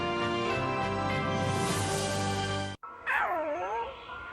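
A dog whimpers in a high, wavering whine after a stretch of loud sustained tonal sound that cuts off abruptly; the whimper is clear and fairly close.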